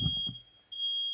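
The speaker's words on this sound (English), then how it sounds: "The alarm's gone off." A household smoke alarm sounds a steady, piercing high-pitched tone that runs almost continuously through the clip, briefly dipping, over faint low rumble.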